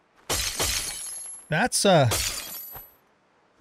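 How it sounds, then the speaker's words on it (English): Glass breaking in the video game Ark Survival Ascended: two sharp shattering crashes in quick succession, followed by someone talking over the game sound. "Sounds like breaking glass."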